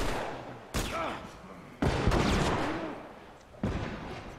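Gunfire in The Last of Us on PS4 Grounded Mode: three sharp, loud shots spaced about a second apart, each with a ringing tail, while someone talks over the game.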